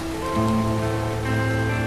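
Steady rain falling during a scene in a Hindi-dubbed South Indian film, a continuous wash of patter heard together with sustained tonal music throughout.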